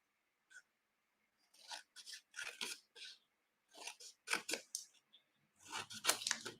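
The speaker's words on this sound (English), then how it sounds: "I'm going to just cut some tabs right here. Let's angle cut a little bit of that excess off." Scissors snip tabs and trim excess from a paper treat box, giving short, irregular clusters of crisp cuts with pauses between them, close and fairly quiet.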